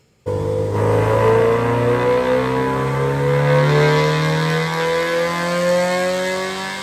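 A Honda SOHC D-series VTEC engine on a dyno starts and revs hard, its pitch climbing steadily as it runs under load for several seconds, loud and close.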